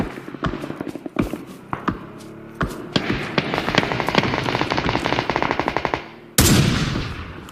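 Gunfire in PUBG: single sharp shots, then a long rapid automatic burst from a heavy .50 caliber weapon, ending with a loud explosion-like blast, all close and loud with no talk.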